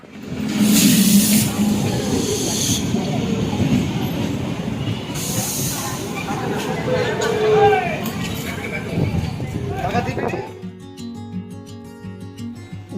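A train rolls into Beldanga station with rumbling wheels, clanking cars and a brief squeal, loud and close, with voices murmuring underneath before it fades out.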